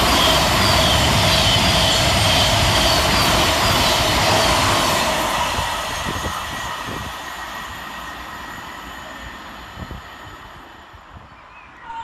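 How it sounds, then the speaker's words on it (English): Govia Thameslink Class 700 electric train running through Hassocks station, a loud, broad roar and rumble close by that slowly fades as the train moves away. "Next to pass through the station is 700 126, working 90 hour 44 for Govia Thameslink from Brighton to Cambridge."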